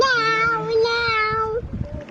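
A voice gives a long, drawn-out meow, imitating a cat, followed by a few soft breathy sounds.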